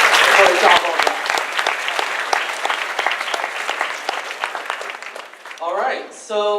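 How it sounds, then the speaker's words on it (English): An audience at an awards ceremony breaks into a round of applause, crisp individual claps dense at first then thinning out, with a voice speaking briefly near the end. "So why don't you give yourselves a round of applause for the job well done."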